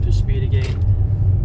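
A Mercedes-Benz GLC250 AMG Night Edition with an automatic gearbox pulls away, a low, steady road rumble and engine hum heard from inside the cabin, with brief higher-pitched whirs as it gets back up to speed.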